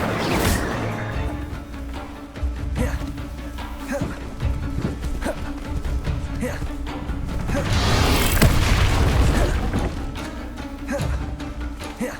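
An Incendio fire spell cast in the Hogwarts Legacy video game, a burst of whooshing flame and booming impacts that swell loudest near the middle, layered over continuous game music and effects.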